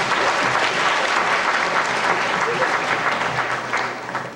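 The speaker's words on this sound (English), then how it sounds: "Round of applause for Ross" A school audience at a fourth-grade spelling bee applauds a young speller, a loud, full burst of steady clapping that holds strong for several seconds before thinning out at the close.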